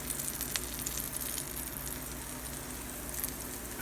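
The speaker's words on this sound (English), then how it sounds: "we are going to go ahead and throw some of this flour inside of this pork fat" Flour tossed into hot rendered pork fat while cooking smothered southern pork chops gives a steady close sizzle and frying crackle, continuous and fairly even with small pops, no talking.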